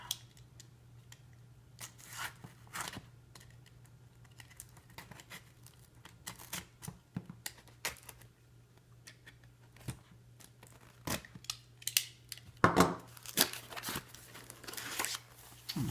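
Scissors snip through printed card sheets with scattered short cuts and crisp paper rustles, close and fairly quiet, under a steady low hum with no talk.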